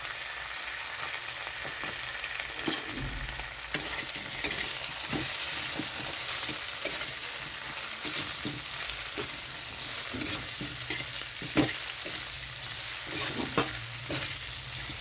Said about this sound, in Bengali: তো আলুর সঙ্গে আদা রসুনটাও একটু ভাজা হয়ে গেছে।